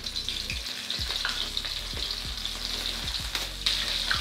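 Tilapia fries in plenty of very hot oil in a pan, giving a constant close crackling sizzle with bright spattering pops throughout.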